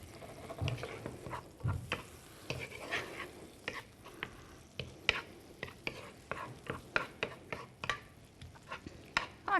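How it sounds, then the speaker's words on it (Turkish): Pastırma stirred in a pan makes repeated quiet scrapes and clinks in an irregular rhythm over a faint sizzle. "Şimdi pastırmamı da şöyle güzelce bir karıştırayım."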